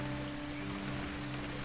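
Steady rain pours in the video game What Remains of Edith Finch, a dense continuous patter over a low background hum, even and moderately loud with no voices.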